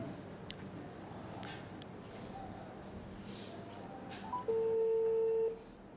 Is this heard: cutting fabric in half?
no